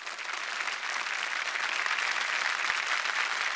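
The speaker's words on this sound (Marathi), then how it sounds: "जोरदार टाळ्या झाल्या पाहिजे त्यांच्यासाठी" A studio audience on a Marathi TV variety show applauds loudly and steadily after a performance, dense clapping sustained evenly throughout with no voices on top.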